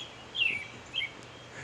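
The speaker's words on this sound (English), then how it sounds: "And that bird singing proclaims his handiwork." A songbird gives two short, high chirping phrases, thin and somewhat distant, over steady low background noise.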